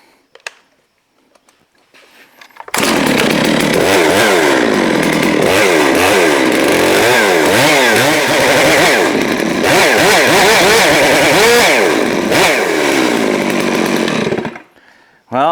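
Neotec 892 Stihl-clone chainsaw starting after a brief quiet, then running loud and close, its engine revving up and down in repeated surges before cutting off at the end.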